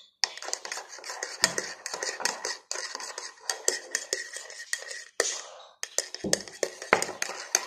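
A spoon stirs cocoa into milk in a cup, a quick run of close clinks and scrapes against the sides in irregular rhythm, with soft voices murmuring in the pauses.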